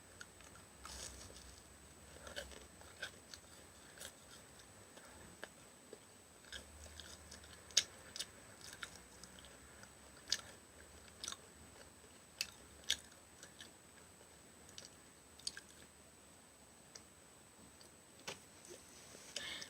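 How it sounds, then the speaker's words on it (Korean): Someone eats a red bean bungeoppang, a fish-shaped Korean pastry, with soft close-up chewing and occasional small crisp bites and ticks spread through a quiet stretch, no talking. "팥 붕어빵부터 먼저 먹어보도록 하겠습니다"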